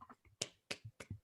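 Three sharp, isolated hand claps over a video call, each a brief broadband crack with a short gap between, faint and close without any talking.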